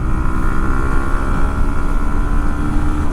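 Steady engine drone from a Hero Glamour X 125 motorcycle while riding, a continuous low rumble with wind noise holding at a constant loud level throughout.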